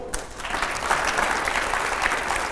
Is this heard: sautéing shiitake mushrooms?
no